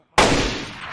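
A single loud .308 rifle shot in the video game DayZ, striking abruptly after a moment of silence and ringing out in a decaying boom.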